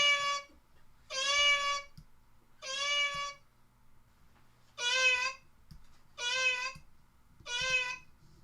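A cat meows six times in a row, each call rising from low to high, clear and close with short pauses between, over a quiet background with faint knocks.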